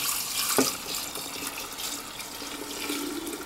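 Lemon juice pours and splashes unevenly from a spoutless Pyrex bowl, a soft continuous trickle with one brief clink near the start, close by and fairly quiet.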